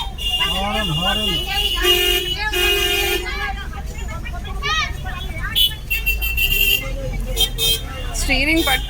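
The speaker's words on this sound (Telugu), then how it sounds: "horn horn" A vehicle horn plays a melodic tune in repeated toots and honks, loud and close, with voices talking over it.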